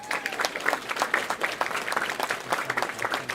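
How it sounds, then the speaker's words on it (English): A round of applause at a bowling tour awards ceremony honors the BowlerX corporate sponsor, steady clapping from a crowd filling the room at moderate volume without any talk. "Please give them a round of applause"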